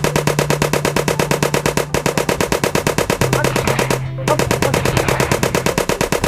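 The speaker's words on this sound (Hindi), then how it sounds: "कुछ सेकंड्स बाद गोलियां चलती हैं और दोनों जमीन पर गिरते हैं" Loud, rapid gunfire rattles in a steady stream of sharp shots, with a brief break, during a fatal shooting of a couple in Pakistan.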